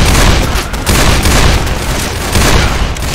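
Loud, dense shotgun fire in the zombie shooter Left 4 Dead 2, blasts crowding together into a continuous booming barrage with no gaps, close and forceful throughout.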